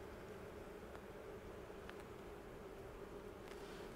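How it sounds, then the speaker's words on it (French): Honeybees at an open hive frame holding brood give a steady, soft, close buzzing drone that runs unbroken with no voices. "Vous voyez, les abeilles sont hyper calmes."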